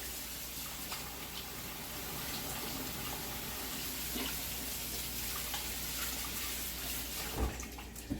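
Water from a tap runs steadily as hands are rinsed clean of olive oil in a kitchen sink, a continuous close splashing rush that holds through and ends with a couple of soft knocks.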